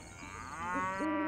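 A cow in a 3D animated devotional film gives one long, drawn-out moo that rises in pitch and swells toward its end, heard clearly and alone.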